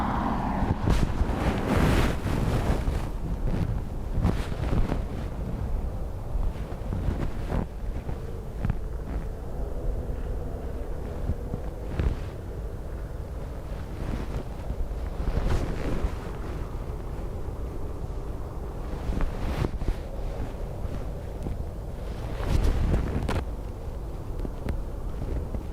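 Strong storm wind at Dublin Airport during Storm Bram, a steady roaring rush with gusty swells and buffeting on the microphone, continuing loudly throughout with no talk.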